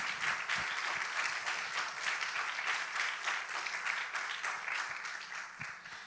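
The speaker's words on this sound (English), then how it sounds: "let us all give our finalists and judges a big round of applause for their hard work and" An audience at the grand finals and awards ceremony of an English public speaking contest gives the finalists and judges a long, steady round of applause, dense and even throughout before easing slightly at the end.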